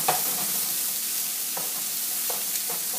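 Marsala chicken with mushrooms, onions and garlic sizzling in a pan, an even, close frying hiss broken by a few soft stirring scrapes, with no speech.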